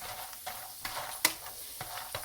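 Pasta tibs stirred in a frying pan, with a soft steady sizzle and a few sharp utensil scrapes and clicks against the pan, one louder knock near the middle.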